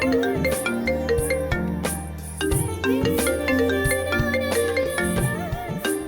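A melodic phone ringtone plays continuously, a loud musical tune with a steady beat and no voices.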